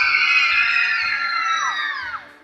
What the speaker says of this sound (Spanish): Ahora un grito de felicidad.